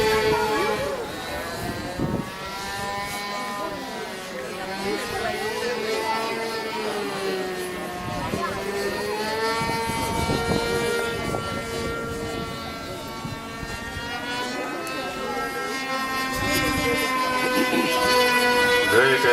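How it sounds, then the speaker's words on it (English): A small aerobatic aircraft flies maneuvers at an air show, its engine droning and whining as it climbs and dives, rising and falling in pitch, with an announcer talking over it throughout. "The young boy has got amazing control on this little aircraft."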